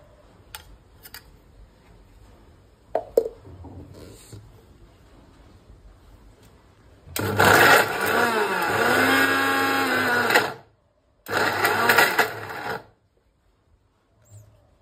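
A mixer grinder blends figs and dates in two loud, close bursts, a long whirring run and then a shorter one, with a quiet pause between them and near silence around them.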